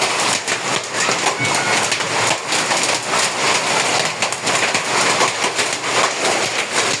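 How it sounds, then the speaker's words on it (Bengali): Dense, loud clattering of large hailstones and rain pelts a hard roof nonstop in Ashulia, Bangladesh, a heavy barrage with irregular sharper hits throughout. "আপনারা শব্দ শুনতে পাচ্ছেন পাথরের।"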